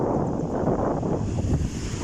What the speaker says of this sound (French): Et il y a pas mal de vent.